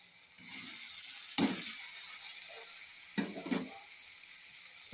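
Okra (bhendi) hits a hot pan and sizzles softly, with a steady frying hiss broken by a couple of scraping stirs of the spatula.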